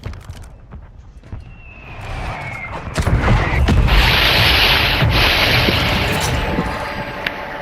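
Airstrike explosions in the Call of Duty Warzone video game, a rising roar of blasts and rumbling booms that swells after a few seconds and stays loud and dense to the end.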